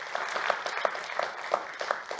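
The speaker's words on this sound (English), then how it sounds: "another a big applause" Audience clapping at a seminar in Olos, a steady patter of many hands held at moderate level with no voices over it.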